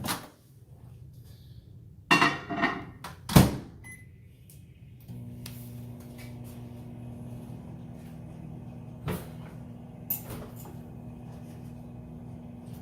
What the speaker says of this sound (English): I'm gonna put it in my microwave for a split second.